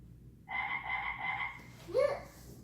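An electronic toy frog, set off by a button press, plays a buzzy, tonal croaking sound effect for about a second, then a short synthetic chirp, loud and close in a quiet room.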